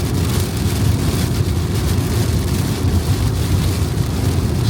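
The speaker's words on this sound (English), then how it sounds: "Started raining a lot now" Heavy rain drums steadily on a car during a storm near Yellowstone, a dense, continuous wash with low rumbling road or thunder noise beneath, loud and unbroken throughout with no voices.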